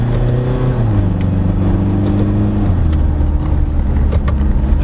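A 2017 Mitsubishi Montero Sport GLS 4x2 diesel with automatic transmission drones loudly under load as it refuses to downshift, the engine note holding steady and then stepping lower twice, heard from inside the cabin.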